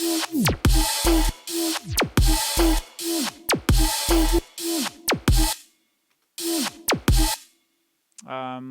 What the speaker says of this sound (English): mess with the tape stop. Let's see how it sounds like this.